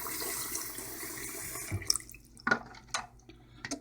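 Tap water running into a bowl while sauerkraut is rinsed in a kitchen, a steady splashing flow that cuts off partway, followed by scattered drips and light sloshing sounds close by.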